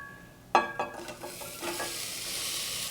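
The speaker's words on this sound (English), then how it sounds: "Give the onions a stir. And we're gonna saute them for about 3 minutes until they start to look tender." Diced onion sautéing in a pan, a sudden burst of sizzle as it is stirred with a few spoon scrapes, then settling into a steady, close, gentle hiss, with no talking.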